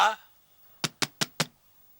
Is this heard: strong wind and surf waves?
no